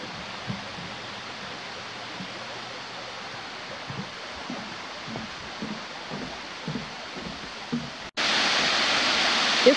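Issaquena Falls in Oconee State Park spills as a soft, constant rush of falling water in the distance, with faint rustles and knocks throughout, then a sudden much louder, close hiss near the end.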